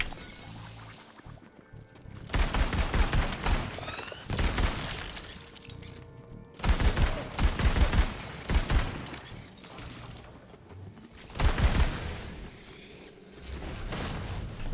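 An upgraded Maggie gun in a video game fires in several bursts of rapid, sharp shots, separated by brief pauses, with loud crashing impacts in between.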